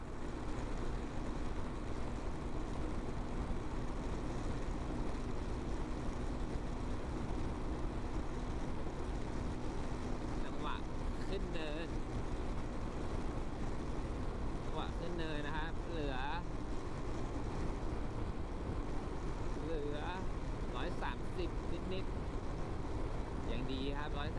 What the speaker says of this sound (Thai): เจ้าซอนเทส350เนี่ย เวลาขี่เจอเนินอย่างเงี้ย ทั้งๆที่เราล็อกมา 140 แล้วอะ่ะ มันจะเหลือความเร็วเท่าไหร่